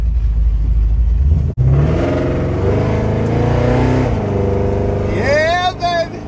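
An LS3 V8 engine in a 1972 Chevrolet Impala idles with a deep rumble, then revs hard several times, rising to a loud roar close by.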